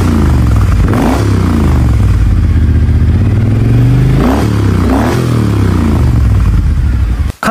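Triumph Thunderbird Storm parallel-twin cruiser with a modified exhaust, its large 270-degree-crank engine idling and revving in a deep, steady, loud throb with a few throttle blips, no talk.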